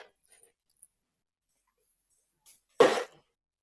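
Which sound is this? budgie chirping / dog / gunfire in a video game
dog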